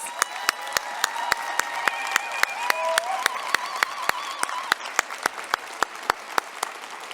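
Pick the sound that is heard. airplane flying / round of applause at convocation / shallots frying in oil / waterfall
round of applause at convocation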